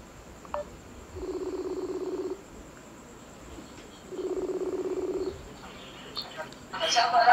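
Telephone touch-tone dialing for a prank call. Two sustained beeping tone bursts of about a second each are separated by a pause over a faint hum, and a brief rustle follows at the end.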